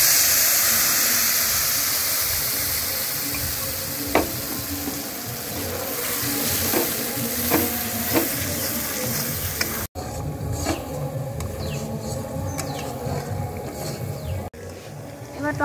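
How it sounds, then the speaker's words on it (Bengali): Dried red chillies and spices frying in hot oil for a village-style paneer tikka masala, a steady sizzle and hiss with occasional stirring clatter, under a woman's speech. "দুটো শুকনো লঙ্কা ফোড়নে দিচ্ছি। এবার এই সমস্ত মশলা আমি দিয়ে দিচ্ছি।"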